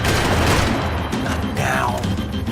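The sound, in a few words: gunfire in the video game Max Payne 3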